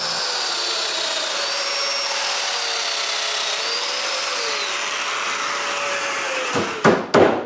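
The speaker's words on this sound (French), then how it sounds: "je peux marquer l'endroit où faire les mortaises de domino et je les perce" A Domino joiner cuts a mortise in wood for a nine-drawer dresser, giving a continuous loud, close motor whine that holds steady, then a couple of sharp bursts as the cut finishes.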